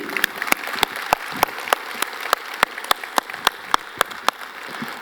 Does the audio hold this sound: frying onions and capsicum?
no